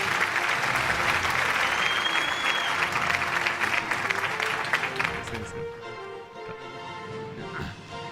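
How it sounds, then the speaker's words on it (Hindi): An award-show audience claps loudly and densely for several seconds, then the applause thins and fades out, with faint voices beneath. "बुखारी साहब के लिए भरपूर तालियां होनी चाहिए खातिन हज़रात।"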